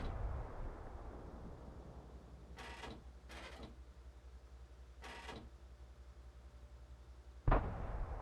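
A tank's main gun fires once, a sharp, loud crack against a steady low rumble of engines in World of Tanks, preceded by a few softer bursts of distant fire.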